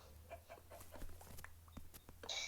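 A few short clucks from a chicken in a video game over a steady low electronic hum, with scattered clicks and a brighter burst near the end.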